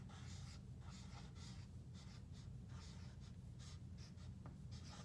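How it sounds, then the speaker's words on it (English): Handwriting on a board or paper while a word equation is set down for a coffee-shop math problem: soft, steady scratching strokes come in short bursts over a constant low room hum, with no talk. "I'm gonna write the word equation."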